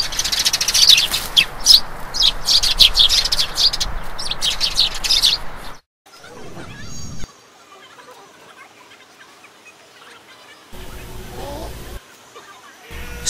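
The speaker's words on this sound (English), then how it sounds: "Sparrows are small gregarious birds which have adapted themselves to live along with the human beings, just like the crows." Sparrows chirp busily for the first few seconds, a dense chorus of bright overlapping tweets outdoors, then give way to quieter sparse sounds and near silence.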